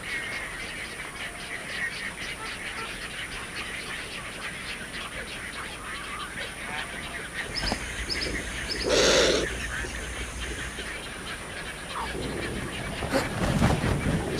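Wetland birds call across a marshy landscape, honking and quacking goose- and duck-like voices rising above a dense, steady chorus of background calls, with a few louder nearby cries standing out.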